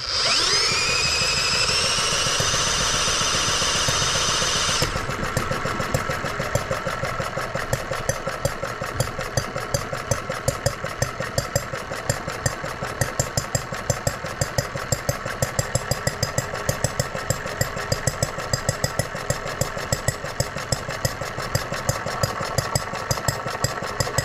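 A high whirring drill spins briefly to start a hot bulb engine, which catches and settles into a steady, rapid thumping idle that continues throughout.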